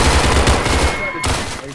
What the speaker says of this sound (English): I can barely hear you over the gunshots.